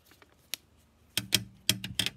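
Scissors snipping through folded writing paper to trim it into a square, several crisp close cuts in two quick pairs, with a few faint paper rustles before.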